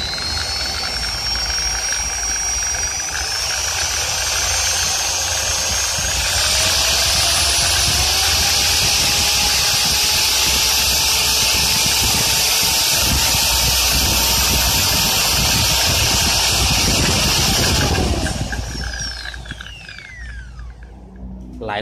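A car polishing machine set to its lowest speed hums steadily with a bright whine and faint rising tones, continuous and fairly loud for nearly twenty seconds before winding down at the end.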